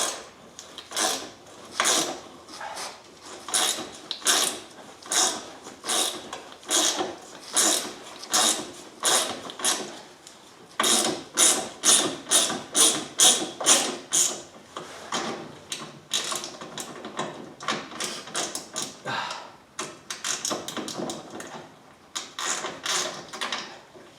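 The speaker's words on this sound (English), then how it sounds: "Taking almost all the bolts out of here." A ratchet clicks rapidly in repeated bursts while bolts come out of the inverter bracket on a 2008 Toyota Prius, close and steady with brief pauses between runs.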